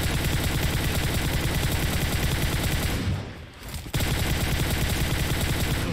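Rapid bursts of gunfire in the PUBG Mobile battle royale game, dense repeated shots filling most of the stretch with a brief lull near the middle before firing resumes, loud and without talking.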